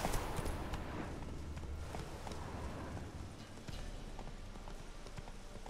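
Steady clip-clopping horse hooves in The Witcher 3 with a game-like ambient bed, continuous and fairly even in rhythm, with no talking.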